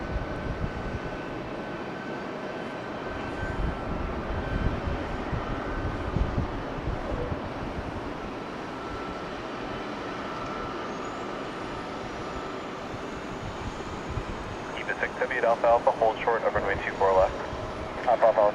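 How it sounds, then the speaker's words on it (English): EVA Air Flight 6 from Taipei lands at LAX, a sustained jet engine rumble and whine running throughout, with a person talking over it near the end. "So that was EVA Flight 6 coming in from Taipei."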